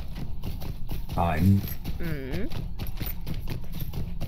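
Horse hooves clip-clopping in a Lord of the Rings video game, a steady rhythmic patter of hoofbeats running under people talking.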